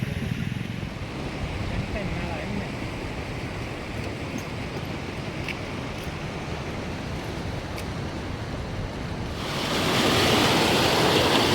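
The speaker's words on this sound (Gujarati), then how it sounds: "તમે જોઈ શકો છો જોરદાર પાણી આવી રહ્યું છે ત્યારે અમારી ઘેલો નદીમાં" The Ghelo River in flood at Vallabhipur roars steadily and loudly, with a constant turbulent wash and wind buffeting the microphone, swelling stronger near the end.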